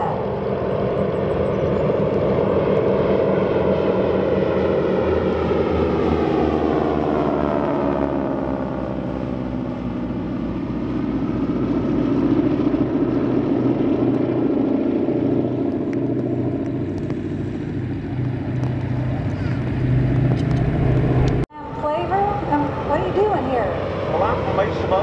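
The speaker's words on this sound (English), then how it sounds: "Here's a nice look at all three Canadian Harbor aircraft coming in, smoke on, lights on." Three vintage Harvard warplanes fly in together at an air show in Geneseo, New York, their radial piston engines making a loud, sustained drone with a Doppler shift as they pass. Someone speaks over the engine noise.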